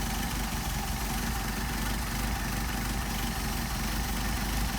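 Mercedes 190SL engine with Solex carburetors idling steadily at around 600 rpm, a close, continuous low rumble with even, unbroken pulsing and no voices.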